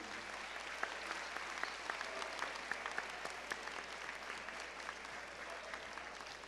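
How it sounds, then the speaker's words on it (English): Parents and guests at a high school honors awards assembly give a steady, fairly distant round of applause that keeps an even, sustained density throughout, without voices. "If we could please give all of our parents and our award presenters a big round of applause, please."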